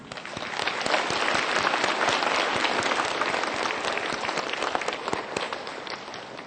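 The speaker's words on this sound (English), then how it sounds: "Please join us in welcoming all of our distinguished guests with a warm Thai applause." Large audience at a formal event gives a warm round of applause for distinguished guests, a continuous dense rattle of clapping hands at moderate distance, steady for several seconds.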